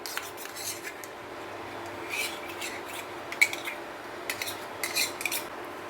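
Ghee-coated modak dough being mixed in a metal vessel, with light scraping and clinking of a spoon against the pan, faint and steady with a few sharper taps.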